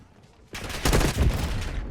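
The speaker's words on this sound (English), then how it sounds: "That was a close Hostiles explosion." Dense Call of Duty gunfire bursts in sustained rapid volleys, loud and close, starting after a half-second of quieter game ambience, with a blast-like thump among the shots.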